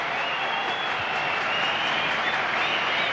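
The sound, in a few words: cricket stadium crowd applauding a century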